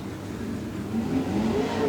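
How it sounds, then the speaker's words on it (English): Limited sprintcar engines rumble as the cars circulate on a race track, a steady mid-range drone that swells slightly louder partway through with rising engine pitch, heard from a distance. "get a little bit of heat in the engines"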